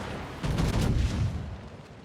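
Heavy naval gunfire from a battleship in the World of Warships video game, a Montana battleship firing at a Hindenburg cruiser; a deep booming salvo rolls out loud and close, then slowly fades, with no talk over it.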